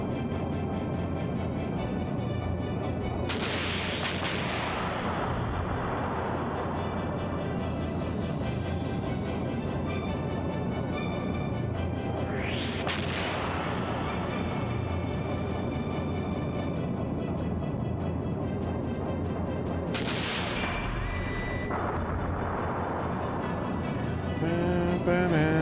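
Torpedo explosions in the video game Skies of Arcadia Legends, several loud, rushing bursts spaced several seconds apart over continuous orchestral game music.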